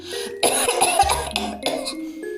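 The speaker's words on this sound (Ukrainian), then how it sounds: "а Хрюша кашляє" A burst of harsh, rough coughing, close and loud, with a few rapid hacks in a row.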